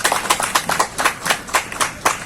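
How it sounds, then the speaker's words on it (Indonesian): Applause at a PAN party motivational gathering, a few pairs of hands clapping in distinct, fairly regular bursts rather than a dense roar, close and moderately loud with no talk. "Mohon tepuk tangannya."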